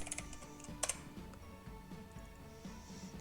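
Typing on a computer keyboard at a command prompt, a quick run of soft key clicks and taps with a few sharper strokes, close and quiet, no talk.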